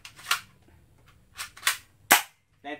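A K35 steel-bodied air gun gives several short, sharp mechanical snaps and clacks as it is cocked and fired, close and crisp in a quiet room, ending with a brief rattling click.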